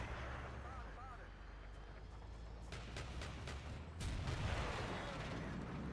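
Artillery shells land in a Battlefield 2 Conquest match, a string of sharp booms and crackling bursts that swell louder toward the end over constant battlefield noise, with people talking throughout.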